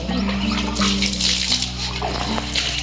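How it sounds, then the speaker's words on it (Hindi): Water from a jug splashes and sloshes onto potted plants on a rooftop in summer heat, a close, continuous pouring with a steady hum underneath. "इनको दे दिया पानी, नहला दिया।"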